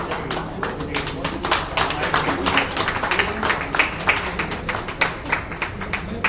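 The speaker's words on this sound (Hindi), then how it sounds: "तालियां बजती रहे" Sustained audience clapping at a retirement celebration in a dispensary, a crowd of hands patting out a busy, irregular rhythm that swells and thins over several seconds, fairly close and lively.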